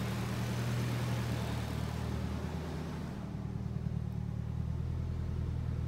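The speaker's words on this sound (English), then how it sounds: "when I unplug the idle air control valve, the idle actually drops a little bit, and the engine sounds a little happier" A Nissan SR20 engine idles with its idle air control valve unplugged, a steady low rumble holding even and continuous throughout with no talk over it.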